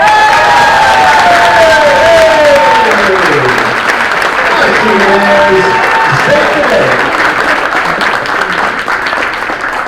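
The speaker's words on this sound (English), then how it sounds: "let's give a big round of applause to Kate Hodge" Audience applause with cheering and whistles fills a convention Q&A panel hall, a steady loud roar of clapping throughout, with voices calling out over it.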